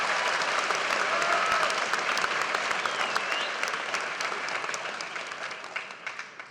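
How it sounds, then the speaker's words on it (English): Audience at a university honors convocation gives a sustained round of applause, loud and dense clapping throughout that slowly thins and fades toward the end. "I think you deserve to give yourself a round of applause."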